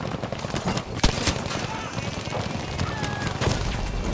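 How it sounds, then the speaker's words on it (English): Enemy machine gun fire in Battlefield V on the Twisted Steel map crackles in rapid, sustained bursts amid loud battlefield din, with occasional sharper single shots and faint voices in the mix. "enemy machine gunner, watch it!"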